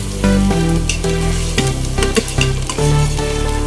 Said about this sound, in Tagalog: Unahin na natin igisa ang sibuyas. Sunod naman natin ang bawang.